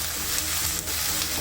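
Onion sautéing and being stirred in a pan, a steady dense sizzle close up with faint scraping of the stirring, loud and continuous throughout.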